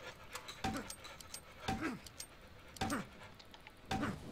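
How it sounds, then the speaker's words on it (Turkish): Heavy, rhythmic breathing in the horror video game Cry of Fear, four loud ragged gasps at roughly one-second intervals, close and strained, with faint background noise. "Nefes alışverişlere baksana"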